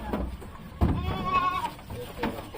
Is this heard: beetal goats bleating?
yes